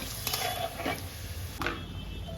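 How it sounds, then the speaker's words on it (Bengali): Chicken pieces going into hot oil in a pan give a steady close sizzle with a few scraping stir and clatter accents, alone with no talking. "তেলের মধ্যে দিয়ে দেবো তারপরে একটু এক মিনিটের মধ্যে ভেজে নেব"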